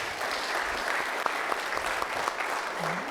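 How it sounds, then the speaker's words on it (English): An event audience claps for the MC at a sports group gathering, a continuous, moderately loud wash of applause with a few sharper individual claps standing out. "Let's give our MC a round of applause"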